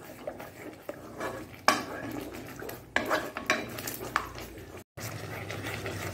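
Jackfruit halwa mixed with eendu powder being stirred in a pot, with scraping and clinking of a spoon against the metal in irregular strokes, a soft bubbling underneath.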